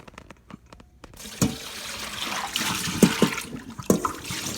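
Water rushes and gurgles as it drains from an overflowing Bosch dishwasher, building into a steady flow after a few clicks, with occasional splashes and bubbling.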